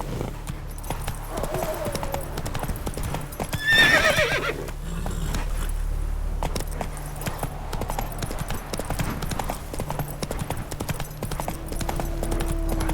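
Roach the horse gallops in The Witcher 3, hooves clip-clopping in a quick steady rhythm, close and clear, with a brief whinny partway through and faint game ambience underneath.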